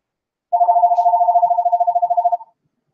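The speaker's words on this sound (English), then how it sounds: "Sorry, phone's ringing in the background," A telephone rings in the background of a room, one continuous warbling electronic trill lasting about two seconds, fairly loud and clear with nothing else over it.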